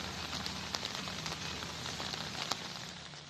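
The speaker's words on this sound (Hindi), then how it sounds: "यहाँ हो रही लगातार बारिश ने पूरे शहर को झील में" Heavy continuous rain pours over a flooded city in Muzaffarpur, Bihar, a dense, even hiss at moderate distance with occasional sharper drops and no voices.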